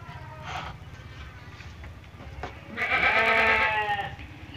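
Sheep on an Indonesian farm where silage feed is being made, bleating loudly and close in a long wavering call in the second half, with lower animal noises and rustling before it.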